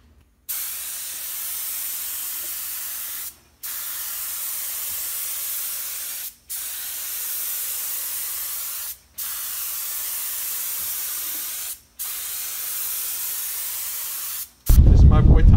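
Aerosol spray paint hisses steadily in long bursts while graffiti is painted onto a car, each spray lasting about three seconds with short pauses between, ending with a sudden louder noise.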